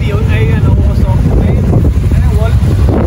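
A strong wind buffets the microphone in a loud, rumbling roar that lasts the whole time, while people talk over it.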